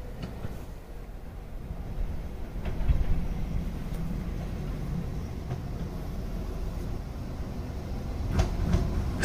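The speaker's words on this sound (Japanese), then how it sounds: "普通列車名寄駅に乗車し、いよいよ東風蓮駅を目指します。" Local train in Hokkaido, between Nayoro and Higashi-Fūren, running steadily with a continuous low rumble and rail noise heard from inside the car, a few faint clicks and a slight swell in loudness along the way.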